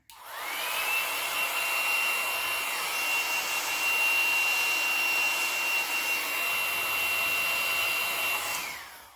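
A hair dryer blows steadily on the damp spots of a Club Couture craft project, a close, continuous whooshing hum with a faint high whine that runs about eight seconds before switching off.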